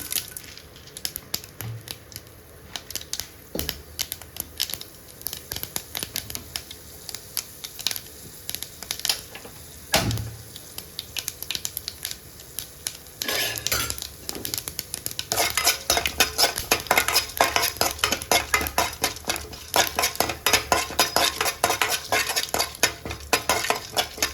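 Mustard seeds and chana dal frying in oil in a kadai for a South Indian bitter gourd fry crackle and pop with scattered sharp clicks and scraping stirs, the spattering growing denser and busier toward the end.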